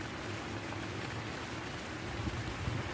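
Light rain falls steadily outdoors at a fishing spot, a soft, even hiss of drops continuing without pause, faint and diffuse, with no voices.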